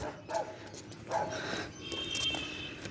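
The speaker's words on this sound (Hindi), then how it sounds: "उसको देख के कुत्ता भौंक रहा हैगा।" A village dog barks at a person approaching the house, a few short yelps spread across the moment with a rooftop outdoor background, faint and somewhat distant.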